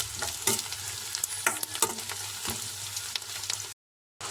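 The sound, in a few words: onions, green chillies and curry leaves frying in oil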